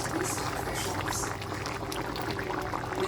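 Continuous bubbling and gurgling of a pot of chicken and pork stew with potatoes and carrots boiling on the stove, steady and close, with a low background hum.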